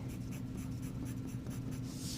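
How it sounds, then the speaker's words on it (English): A pencil scratches dense hatch lines onto paper in a steady, rhythmic series of close strokes, pressed fairly hard. The sound is quiet and close, with no talking. "you make the hatch lines much closer together and you push a little harder with your pencil."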